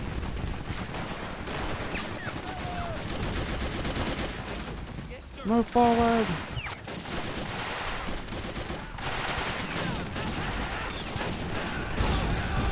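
Battle gunfire rattles across the Peleliu airfield in Men of War: Assault Squad 2, with steady bursts and volleys under a brief shouted command, rising and thinning in waves.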